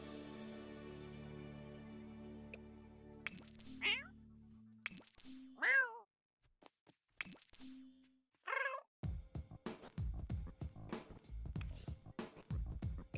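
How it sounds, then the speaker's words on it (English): A Norwegian forest cat in The Sims 4 lets out several short, clear meows spread across the clip. They are mixed with soft plops and a low tonal hum early on, and a busy clatter of game sounds follows. "A Norwegian forest cat."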